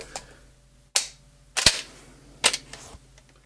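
A Canuck Regulator shotgun going off in a series of four sharp, loud cracks, each cutting off quickly, spaced unevenly over a few seconds with quiet gaps between them.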